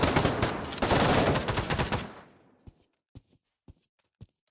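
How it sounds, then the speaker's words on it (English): Sniper and automatic gunfire in the VR shooter Pavlov: a dense, loud burst of rapid shots for about two seconds, fading into four or five isolated sharp knocks or steps spaced well apart, with no talking. "Need to watch that sniper rifle"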